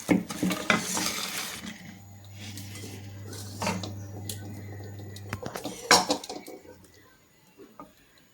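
Chopped pieces for pickle frying in a pan, with a soft sizzle under repeated stirring, scraping and metal clatter, loudest at the start and again near the six-second mark before settling quieter.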